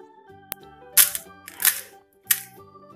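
Crispy fried panipuri puris are cracked apart by hand, giving a sharp snap followed by three bright crunchy breaks spaced about half a second apart, close and clear over faint background tones.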